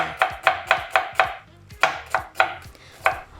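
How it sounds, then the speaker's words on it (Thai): A knife thinly slicing an onion on a cutting board, about ten crisp evenly paced chops with a short gap in the middle, close and clear with no voices. "ทุกอย่างเราจะสไลด์ให้บางหมดเลยนะคะ หอมหัวใหญ่ นะคะ เราก็จะทำเหมือนกันค่ะ"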